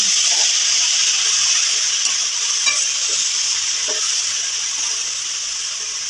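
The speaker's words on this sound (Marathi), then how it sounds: "आता तूप पण गरम झालं आणि आता त्यात आपण गाजर टाकूया" Grated carrots for gajar halwa frying in hot ghee, a loud, dense, continuous sizzle and hiss close up that eases slightly toward the end, with faint stirring scrapes and no talk.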